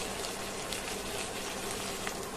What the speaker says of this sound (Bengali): গরম পানি দিব, ঠান্ডা পানি দিব না